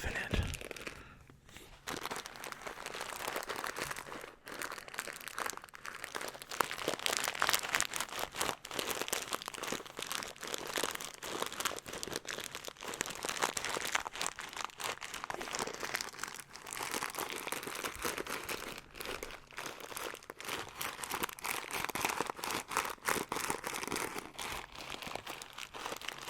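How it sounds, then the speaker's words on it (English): A crinkly plastic packet with contents inside is crumpled and squeezed close up, giving a continuous dense rustling crackle with some body from the stuff inside, steady throughout with no talking. "It's kind of a cool, different, crinkly sound. Instead of just plastic, you know, it has some depth because there's stuff in it."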